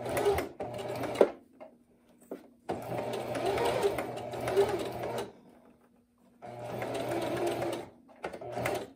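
A sewing machine stitches and back stitches a gathered fabric seam in three close bursts of rapid mechanical whirring, with brief quiet gaps between runs.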